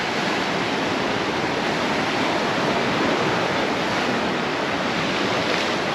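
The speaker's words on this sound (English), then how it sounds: "while we have seen moody seas like this before, they're not that common." Moody sea waves breaking on the beach at Portals Nous, Mallorca, form a continuous, full-bodied roar of surf and wash that holds steady throughout, with no voices.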